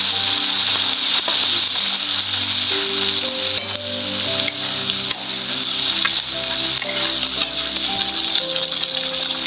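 Masala sizzling in hot oil for a spicy brinjal curry, a loud continuous frying hiss close up with occasional stirring, while faint tonal music plays underneath.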